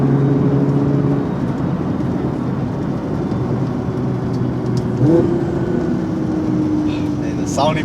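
Nissan GT-R engine droning steadily while driving in the rain, with a rising rev and shift partway through, heard from inside the cabin amid road and rain noise.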